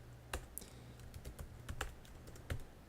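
Keystrokes on a Mac computer keyboard while an email is typed, a quiet, irregular patter of separate clicks with short pauses between bursts, close and alone with no talking.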